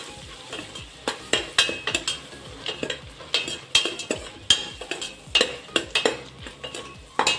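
Ingredients for egg biryani frying in a pan, with a steady sizzle under repeated sharp clinks and scrapes of a utensil stirring against the metal, close and fairly loud.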